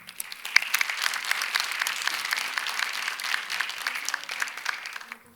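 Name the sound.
applause welcoming a speaker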